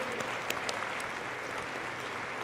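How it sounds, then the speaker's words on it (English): Dense, steady audience applause fills a commencement ceremony hall for doctoral and master's graduates, a continuous wash of many hands clapping at moderate distance. "Why don't we give them a round of applause again?"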